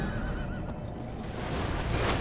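A horse neighs amid a medieval strategy video game battle, the whinny rising over a dense, continuous din of combat noise with no talk.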